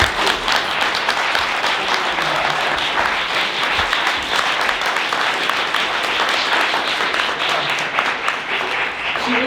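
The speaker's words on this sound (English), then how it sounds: "Let's, first of all, just give her a round of applause" An audience gives sustained applause for Senator Kirsten Gillibrand at an equity political event, a loud, dense, even roar of many hands clapping that holds steady for nearly ten seconds.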